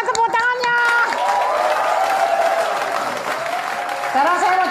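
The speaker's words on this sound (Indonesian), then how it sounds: "Mana tepuk tangannya?" An audience applauds and cheers in a busy hall, sustained clapping blended with crowd hubbub and voices talking over it throughout.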